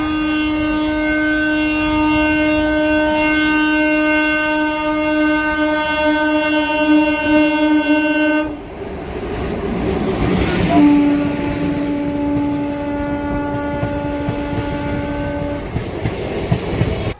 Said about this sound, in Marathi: इथं रेल्वे आली